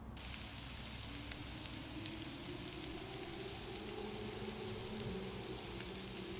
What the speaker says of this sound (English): Now add chopped onion and saute the onions until they are golden brown